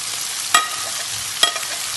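Onion, garlic, green chilli and ginger fry in a pan for a mackerel pollichathu masala, giving a close, even hiss broken by two sharp spoon knocks.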